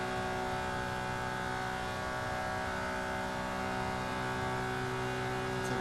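A Ferrari Enzo and a LaFerrari race on track in Forza Motorsport, their engines a sustained high, steady tonal drone with layered harmonics, holding constant speed without shifts, no talk.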